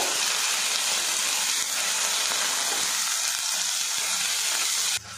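Onion paste with ginger and garlic fries in oil, a loud, continuous, dense frying hiss with faint stirring scrapes, cutting off briefly near the end.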